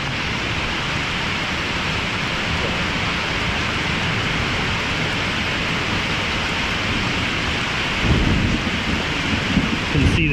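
Steady heavy rain pours through a canyon in Arkansas during a thunderstorm, a dense continuous hiss with low rumbling thunder that swells louder near the end.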